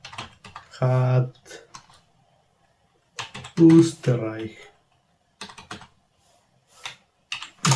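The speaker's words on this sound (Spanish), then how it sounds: "Estoy usando un teclado en español que me traje de México" Typing on a Spanish-layout computer keyboard gives scattered clicking key presses in short runs, heard between and under stretches of speech.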